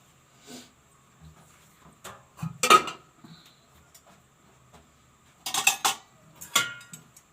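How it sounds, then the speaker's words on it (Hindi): Steel utensils and dishes clatter and clink in a home kitchen as they are handled and put away, with scattered light taps building to two loud bursts of jangling metal near the middle and end. "बर्तन रखती हूँ पानी के, फिर सुबह लगाती हूँ।"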